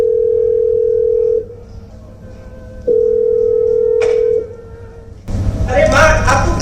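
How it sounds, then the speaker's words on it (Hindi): Two long ringback tones of a phone's outgoing video call sound at a steady pitch with a pause between, followed by a burst of louder noise. "करते हैं अभी वीडियो कॉल।"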